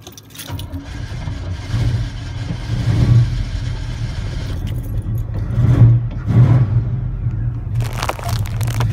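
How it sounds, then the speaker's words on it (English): A car engine idles and revs loudly throughout, with swells of throttle rising and falling in a steady rumble, while people talk around it in a casual outdoor setting. "let me hear a rev"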